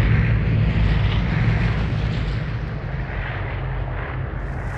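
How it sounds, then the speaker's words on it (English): An airplane flies overhead in a survival video game on Xbox One, giving a loud, sustained roaring rumble that fades slightly toward the end, with no voices. "I sat in a bush while the plane flew overhead."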